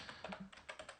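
A password typed on a computer keyboard, a quick run of about eight light key taps in close succession, near and fairly quiet, with no voice.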